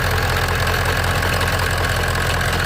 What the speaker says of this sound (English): Hit the ignition and it fired right up.